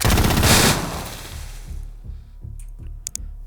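Gunshots in Xenonauts 2, a loud opening burst of fire followed by a rhythmic series of lower thumps and a few sharp clicks at the end.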